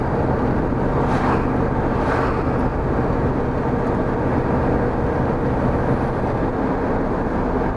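Broadband rumble and road noise from inside a 1977 Mercedes 450SLC while driving, a steady engine and tyre drone at even loudness with no speech.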